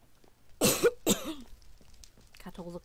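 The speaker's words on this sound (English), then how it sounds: "the air gets colder and I start coughing" Two sharp, close coughs in quick succession, followed by a brief murmur of a voice in a quiet room aboard an EnviroCraft E19 cruiser.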